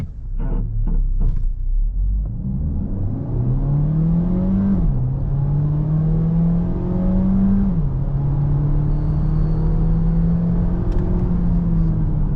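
A 2023 Citroen C5 Aircross plug-in hybrid, 225 hp, revs up hard in sport mode and climbs through the gears, its pitch rising, dropping at each shift, then rising again, loud and close throughout.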